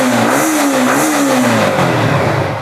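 A 2022 MT model motorbike, a second-hand bike in good condition, revs steadily close by, its engine note climbing and dipping slightly over a few seconds with no talking.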